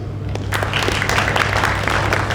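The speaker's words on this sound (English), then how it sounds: "a big round of applause" Audience applause at a tech bootcamp in Warsaw, a steady wash of many hands clapping that holds for the whole stretch at a moderate, even level.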